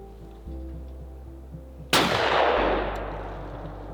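A single loud shotgun blast fires at a clay target during shooting practice. It cracks sharply over a low steady background hum, then decays into a long rolling echo.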